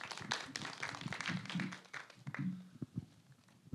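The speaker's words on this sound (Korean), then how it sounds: "큰 박수로 맞이해 주시기 바랍니다." An audience applauds to welcome a speaker at a science and technology international cooperation forum. The clapping is faint and steady, dense at first and thinning out toward the end.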